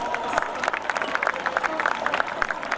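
A crowd claps and cheers at the Boscoree 2018-19 gathering, with dense, steady applause and a murmur of voices mixed through the whole stretch.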